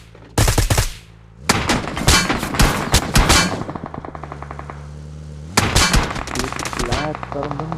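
Rapid bursts of automatic gunfire in PUBG Mobile, loud and close, coming in several clusters separated by brief pauses and a low electronic hum.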